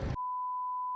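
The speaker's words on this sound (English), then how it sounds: "You have to beep this out." A pure censor bleep cuts in right after a short burst of speech and holds as a steady, loud tone for most of a second.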